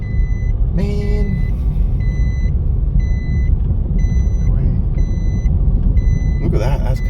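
Loud, evenly spaced reversing beeps repeat about every second over a low engine rumble, with a brief hiss of an air brake, in a raceway's top spectator car park.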